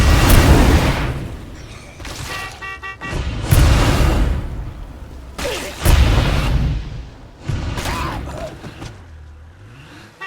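Landmine blasts in State of Decay 2, caught up with a bloater and a juggernaut zombie: several loud booming bursts with rushing whooshes spaced across the stretch, each decaying into low rumble amid game ambience.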